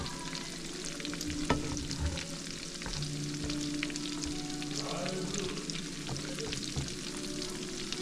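Catfish pieces frying in a full pan of oil give a steady, dense crackle and sizzle throughout, close and continuous with small pops, no talk over it.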